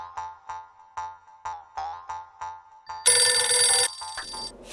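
A telephone rings in a steady series of short electronic trills, clear and close, followed by a louder burst of noise near the end.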